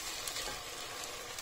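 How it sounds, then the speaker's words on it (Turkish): Potatoes and peppers fry in tomato paste in a pot, giving a soft, steady sizzle with faint stirring clatter, close and fairly quiet with no voices. "Patatesle biberi böyle attım. Şimdi böyle bir 5 dakika daha kavrulsun."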